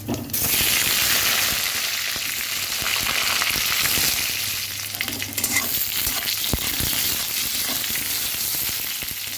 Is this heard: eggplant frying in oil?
yes